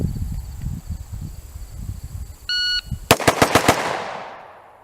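An AXTS MI-T556 rifle fires a quick string of five sharp, loud shots at steel plates on an outdoor range, preceded by a short electronic timer beep and quiet rustling, the final report ringing out as it fades.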